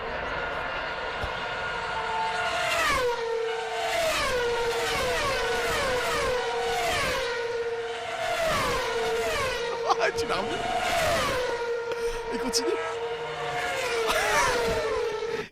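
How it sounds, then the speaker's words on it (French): A busy racing jingle with roaring engines and passing vehicles sweeping by, layered music on top, and brief voices speaking over it. "le jingle moment voiture, c'est celui-ci"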